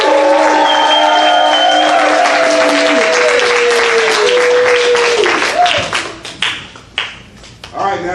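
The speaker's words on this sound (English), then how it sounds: "we're going to welcome her back into the room with a big round of applause" Big audience at a live sidestage show applauds loudly, with steady dense clapping and cheering, a voice calling out over it, then tapering into scattered claps near the end.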